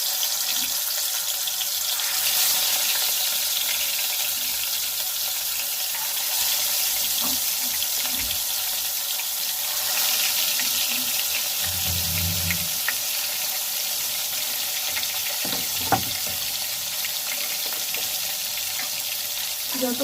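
Large snakehead (shol) fish frying in hot oil in a home kitchen sizzles with a steady hiss, with occasional clatters and soft bumps from pans and utensils.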